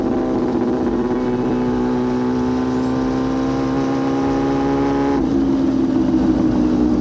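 A Yamaha R6 sport bike with a very loud exhaust drones steadily while cruising in third gear in traffic, a close, sustained engine note that shifts pitch slightly partway through.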